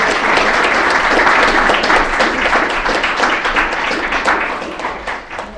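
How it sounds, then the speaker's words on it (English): Steady, full audience applause at an academic conference session, many people clapping loudly and continuously, fading slightly toward the end. "round of applause."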